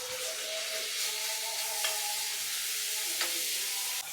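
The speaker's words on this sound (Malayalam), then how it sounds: "ചൂടായ എണ്ണയിലോട്ട് നമുക്ക് ഈ അരപ്പങ്ങ ഇട്ട് കൊടുക്കാം." Ground spice paste fries in hot coconut oil in a pan, giving a close, steady hiss and sizzle with light crackles and a couple of faint utensil taps, and no talking.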